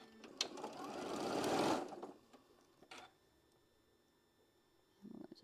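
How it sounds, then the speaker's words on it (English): A sewing machine stitches fabric for a quilt block in one short run of about two seconds, moderately close, followed by a few faint clicks and small handling noises. "I'm just going to sew just left of that line"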